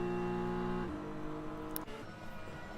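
GT3 race cars, a Porsche and a BMW, in a sim racing game at Zandvoort: steady loud engine drone with a gear change and a brief sharp squeal, then rising revs.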